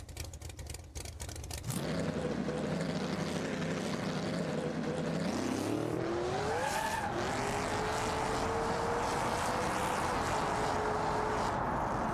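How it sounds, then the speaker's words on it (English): In BeamNG Drive, a tuned car's tires spin as the engine holds a low drone, then revs rise in a long climbing whine over loud, continuous tire noise. "if you've seen that it spun the tires"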